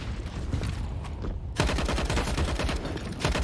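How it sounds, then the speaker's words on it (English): Steyr AUG rifle fire in a Counter-Strike esports match: dense, rapid automatic bursts that grow sharper and louder partway through, with no talk over them. "spreading the armor-piercing rounds of the AUG"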